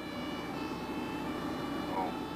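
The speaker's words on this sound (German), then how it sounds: "Dann Blaulicht und Sirenen." Emergency vehicle sirens with flashing lights sound through stalled traffic on a German road after a rear-end collision, a steady wailing tone heard faint and somewhat distant over low road rumble.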